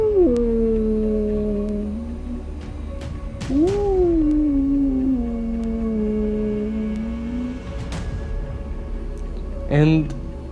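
A voice imitates a sad wolf howl in two long, drawn-out wavering calls that rise and slowly fall, followed by a brief higher cry near the end, close and clear.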